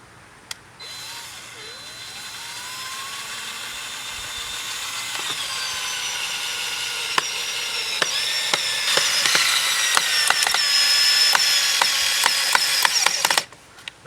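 A power drill drives screws into wooden garden plank boards, with a rising whir and then a run of sharp clicking ratchet bursts near the end, heard close up with no talk.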